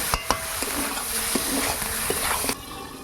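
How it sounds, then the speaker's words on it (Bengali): Beef chunks being stir-fried for a Bengali-style kasha in a pan give a steady close sizzle with scattered stirring scrapes and spatula taps, running evenly for most of the clip before dropping off abruptly near the end. "এটাকে আমি আরও 10 মিনিট এটাকে ভালো করে কষিয়ে নেব"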